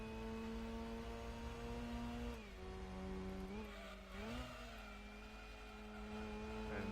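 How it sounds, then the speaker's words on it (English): A Wankel rotary-engined sports car races in Gran Turismo 2 during an 80's sports car cup, its engine giving a steady buzzing whine that dips and rises through gear changes, heard faintly and alone. "And that is, of course, the sound of the Wankel rotary."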